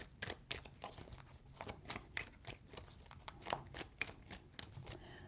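Tarot cards are shuffled in a quick run of crisp riffling flicks, close and fairly quiet, with no talking over them.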